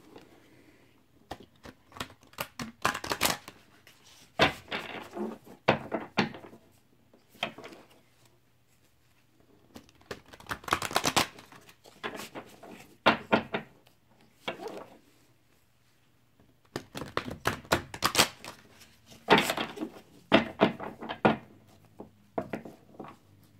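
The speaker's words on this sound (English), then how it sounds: "Just going to shuffle these cards real quick." Tarot cards being shuffled by hand in repeated bursts of soft riffling and tapping, quiet and close, with short pauses between rounds.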